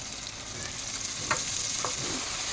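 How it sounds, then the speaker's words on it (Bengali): Onion, ginger, garlic and spices sautéing in mustard oil, a steady close sizzle with a few spatula scrapes and stirs over it. "এবারে আমি একটু কষাচ্ছি।"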